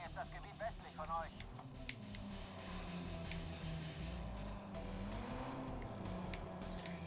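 A stolen car drives in the video game Watch Dogs, its engine a low, steady, rumbling drone with scattered clicks and thumps; a brief voice is heard near the start.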